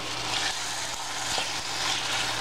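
Pork tenderloin stir-frying in a pan, a steady, close crackling sizzle with a few soft stirring knocks, no talk over it.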